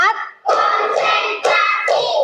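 Children in a classroom clap in short rhythmic bursts during an ice-breaking counting game, four quick rounds of group clapping separated by brief pauses, close and fairly loud.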